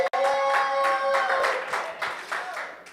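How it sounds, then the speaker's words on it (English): Applause from an audience at a youth gathering, a few seconds of steady clapping mixed with sustained tonal sounds, fairly loud and close. "That deserves more applause than that."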